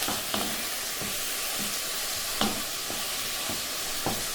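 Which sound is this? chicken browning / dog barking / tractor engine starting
chicken browning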